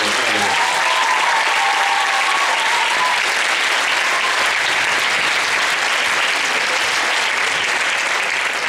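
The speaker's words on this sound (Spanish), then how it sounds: "pido un aplauso para Elena González y Álvaro Ballester" An audience at a Christmas concert of a municipal school of music and dance claps loudly and continuously for nearly nine seconds, a thick sustained applause with a brief tonal murmur early on.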